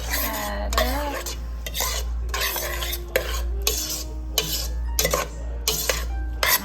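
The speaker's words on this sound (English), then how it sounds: "we're adding those to the rice. And we're gonna mix that up" A spoon turns drained, rinsed black beans into cooked rice in a pot, giving repeated scraping stirs and light clinks against the pot over a low steady hum nearby.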